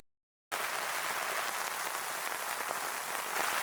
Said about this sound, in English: How about this rain? Man, it's coming down heavy now